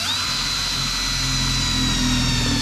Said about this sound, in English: We're supposed to drill an 11/16 inch hole here.